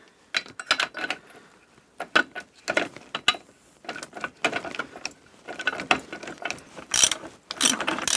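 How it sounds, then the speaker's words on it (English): A socket wrench ratchets a nut off a Scott Squirrel motorcycle gearbox during a strip-down, giving close, crisp bursts of rapid clicking in irregular short strokes with brief pauses between them. "Just seeing if it was the socket wrench."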